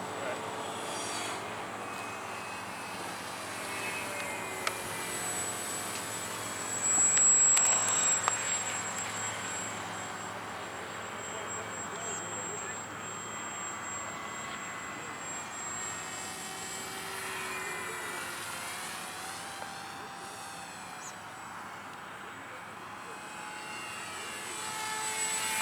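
An R/C model of a Boeing 2707-300 SST jet airliner flies as a steady, distant engine whine drones through the whole stretch, swelling briefly louder once, with faint outdoor background.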